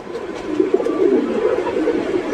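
Lahori pigeons cooing together in cages at a pigeon farm, a steady low murmur of overlapping coos that fills the whole stretch at moderate loudness.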